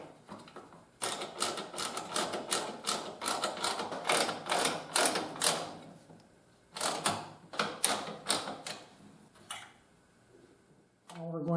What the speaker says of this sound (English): we'll just go ahead and add these self-locking nuts and tighten everything up